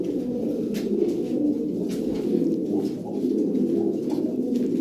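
Stencil Lahori fancy pigeons, a newly paired male and female in breeding condition, coo in low repeated throaty rolls close by, continuous and soft with no talk.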